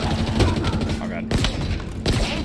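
Rapid gunfire from shooting enemies in the Halo Infinite campaign, a dense continuous burst of shots with a few heavier thuds, loud and close throughout, with a voice talking over it.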